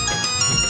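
A mobile phone rings with a steady electronic tone, loud and close, sounding alone without any voices.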